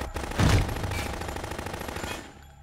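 Rapid automatic gunfire from the Metal Gear Solid 2 video game, a loud dense burst up front that trails into a sustained rattling clatter.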